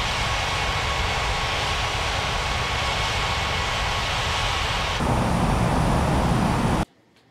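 Steady, loud jet-airliner engine roar from an air traffic control simulator game, a broad continuous drone with a slight shift in tone near the end before cutting off abruptly, no voices.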